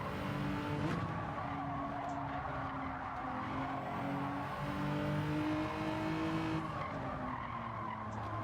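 Race cars skidding on wet tyres in Gran Turismo 7, a continuous squealing, sliding tyre noise with engine drone underneath, steady and fairly loud throughout.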